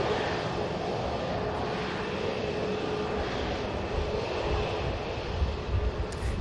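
Jet2 Airbus A321neo engines at Manchester Airport, a loud steady broadband roar that holds constant throughout with a deep rumble underneath, no voices.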